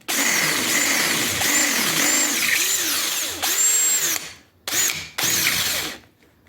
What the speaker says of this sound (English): now we're going to drill out the bigger hole